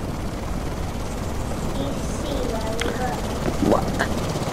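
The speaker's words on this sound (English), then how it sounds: "Ah, go away, helicopter!" A video game helicopter flies overhead with a steady, loud rotor drone throughout, while players talk and exclaim over it.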